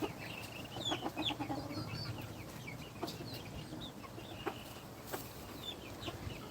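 Chickens cluck and chatter in a busy coop, with several overlapping calls and scattered squawks against a steady background of farmyard noise.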